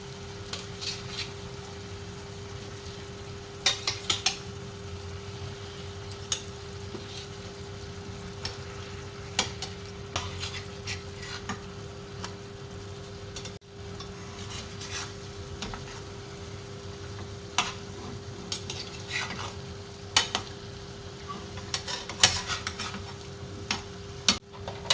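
Egg curry masala sizzles and fries steadily in a pan while a spoon stirs it, scraping and clinking against the metal in scattered bursts, with no talking.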